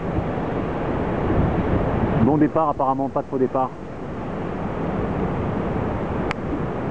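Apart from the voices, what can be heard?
wind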